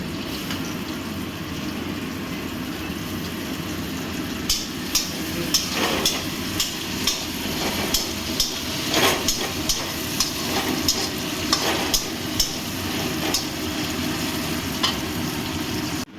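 Carrots and peas sizzle in a hot pan while a spoon scrapes and stirs them, a steady close frying hiss broken by repeated sharp clinks of the utensil against the metal, with no talking.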